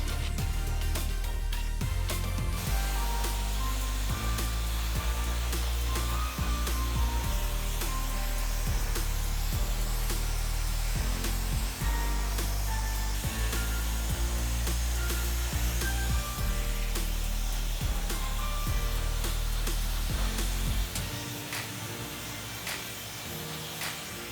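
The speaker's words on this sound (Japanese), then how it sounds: "全体のそぎが終わりましたらドライヤーで乾かします。" A hair dryer blows steadily at close range while drying a man's medium-length hair after a salon cut, its continuous whooshing drone running nearly the whole time before cutting out near the end.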